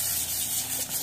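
Hose water sprays steadily in a continuous close hiss while a dog is being washed, with no talk.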